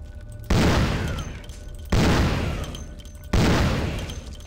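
Three loud, heavy gunshots from Vampire: The Masquerade – Bloodlines, each a sharp blast with a long decaying tail, spaced about one and a half seconds apart with no talking.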